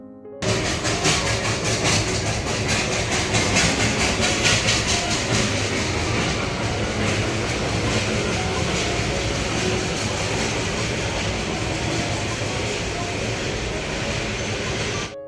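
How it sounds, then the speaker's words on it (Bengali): The Darjeeling toy train passes right in front of a hotel, making a loud, continuous rumble and rattle of rolling carriages that holds steady throughout. "একদম রুমের সামনে দিয়ে টয় ট্রেন লাইন ছিল"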